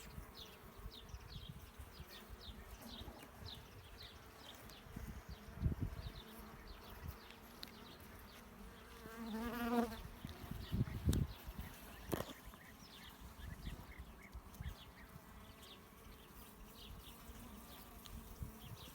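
Honeybees from a strong colony buzzing around an open hive as frames are handled: a faint, continuous hum with individual bees droning past close by, plus occasional light knocks and rustles.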